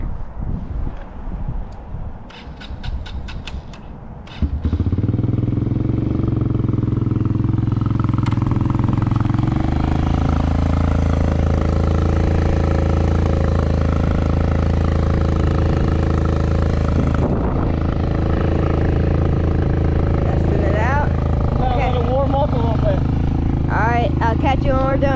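A Kawasaki KLX dirt bike engine roars up loud and close from about five seconds in, holding a steady revving drone with rising pitch sweeps near the end as the rider heads for a small MX/BMX kicker jump; wind buffets the microphone.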